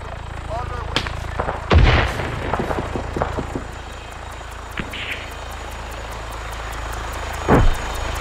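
Gunfire in a Cold War era Rhodesian Bush War firefight in a realistic war video game: scattered sharp shots and two heavier booming bursts ring out over a low continuous rumble.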